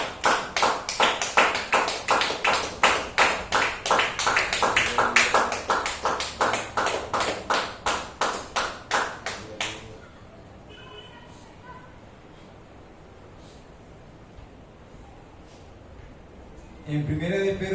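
A church congregation claps in unison, loud rhythmic hand claps in a steady beat for about ten seconds before stopping abruptly, leaving quiet room tone and a brief louder sound at the end.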